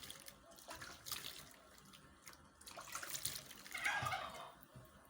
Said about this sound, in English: I'll clean my hand and do another test.